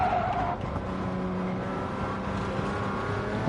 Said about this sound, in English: Tire squeal is our enemy.